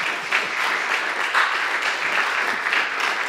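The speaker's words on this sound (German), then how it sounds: "Applaus, bitte." Audience applause at a Berlin evening talk event, a steady dense wash of clapping from a seated crowd, fairly close and even in level throughout with no voices.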